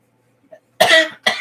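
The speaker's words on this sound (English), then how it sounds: "I better cough my tiredness out of my body." A person coughs twice close by, a long harsh cough followed by a shorter one, with a faint small sound just before and quiet around it.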